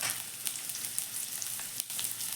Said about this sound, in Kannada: ಸ್ವಲ್ಪ ಎಣ್ಣೆ ಹಾಕ್ಕೊಳ್ಬೇಕು. ನಂತರ ಈರುಳ್ಳಿ ಹಾಕ್ಕೊಳ್ಬೇಕು.